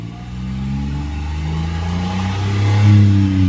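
A Mitsubishi Attrage engine fitted with a Dinobox electronic throttle box revs smoothly upward from idle, its loud close drone climbing steadily in pitch over a few seconds.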